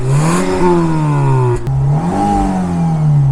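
A Fiat Cinquecento Sporting, a light small car, revs and accelerates with a loud, buzzing engine note that rises in pitch, dips briefly at a gear change, then climbs again, close and continuous.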